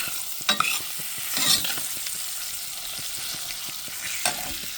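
Butter melting into sautéed yuca (cassava) in a frying pan, a continuous crackling sizzle with light stirring scrapes and a few brief louder clinks of a utensil, no talking.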